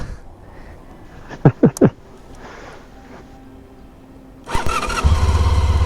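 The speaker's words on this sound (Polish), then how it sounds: "odpalamy motocykl" A motorcycle near Zakopane is started close by: a few loud mechanical clunks, a pause, then the starter whirs and the engine catches into a steady, loud idle.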